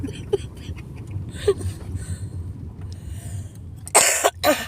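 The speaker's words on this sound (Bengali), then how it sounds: "অনেক কাশি হইতেছে।" A person coughs a few times in quick bursts near the end, close and loud, after a stretch of murmuring voices and low background noise on an outing in Narsingdi, Bangladesh.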